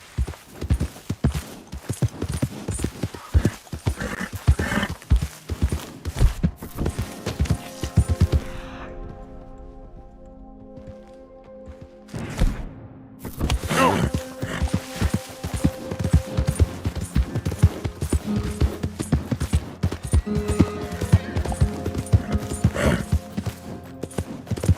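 Horse hooves clip-clop at a steady trot in Red Dead Redemption 2 Online, close and rhythmic, breaking off into near quiet partway through before the clopping resumes.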